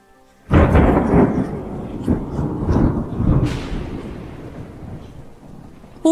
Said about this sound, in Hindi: थोड़ी देर बाद जोरों की बारिश शुरू हो जाती है